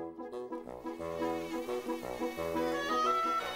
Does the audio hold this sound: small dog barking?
no